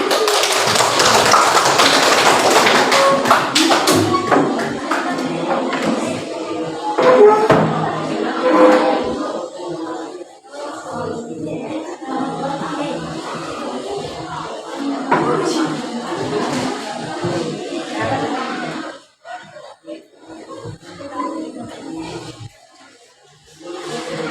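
Classroom applause for finished student groups, a dense burst of clapping that thins out and fades in patches, with some voices mixed in.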